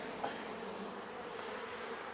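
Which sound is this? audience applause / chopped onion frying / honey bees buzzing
honey bees buzzing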